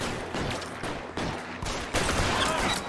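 Rapid machine gun fire from the video game LA Noire, a loud continuous fusillade of overlapping shots with a few sharp bursts.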